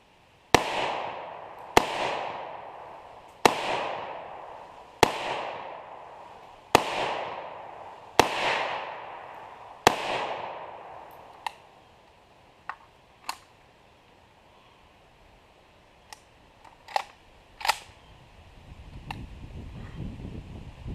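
An AK rifle fitted with a Strike Industries buffer fires seven loud, sharp shots about one and a half seconds apart outdoors, with distant fainter shots and wind afterwards.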